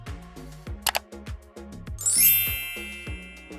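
A bright notification bell dings once, sharp and ringing, with a shimmering tail that fades slowly over a steady rhythmic music beat.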